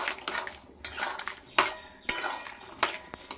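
Metal spoon scraping and clinking against a pan while green and ripe red chillies are stirred into a vegetable curry of potato, chickpeas and pumpkin; irregular close scrapes and sharp knocks, with no talk.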